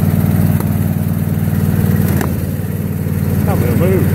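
A John Deere X155R lawn tractor runs with a steady engine drone as it moves forward, the mid-pitched hum holding even and close throughout, with a voice speaking briefly over it.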